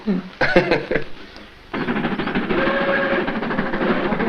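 The royal train of Jodhpur runs loudly, with a steady rail rumble and clatter through most of the passage. Voices and bumps come early, just before the sustained train noise sets in.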